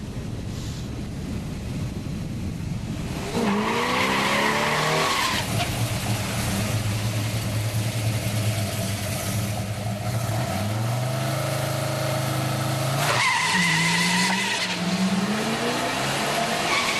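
Muscle car launching from the drag strip line, engine revving and rising through gears with tire noise, two strong launch bursts several seconds apart, loud and close with wind buffeting the microphone.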